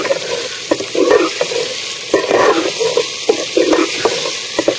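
Potatoes go into a pan of roasted, sweetened masala, which sizzles loudly and steadily while a spoon scrapes and stirs in repeated bursts.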